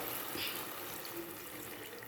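Steady water pours into a cooking pot and splashes continuously for a couple of seconds, close by, with no talking.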